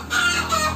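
A farm hen clucking loudly in its coop before laying an egg, one close, strident cackling call that rises and holds, heard alone.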